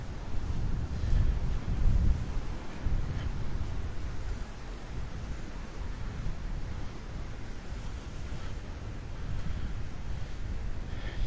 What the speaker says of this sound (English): There's nothing to block the wind up here.